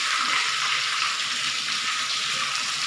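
Red tilapia frying in oil in a pan, a steady close sizzle and crackle that runs without a break and with no talk.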